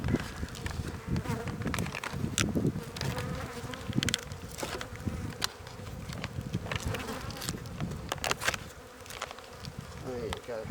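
Honeybees buzz steadily at close range around an open hive, a dense droning hum with occasional louder passes near the listener.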